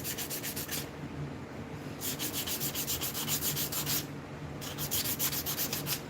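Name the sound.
sanding with 100 grit sandpaper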